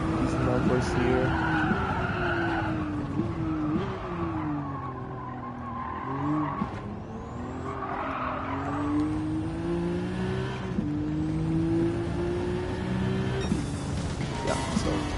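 Car engine in the Gran Turismo 7 racing game, heard while braking on track. The tone dips and rises through downshifts, with tyre squeal and a steady roar, and a voice speaks over it throughout.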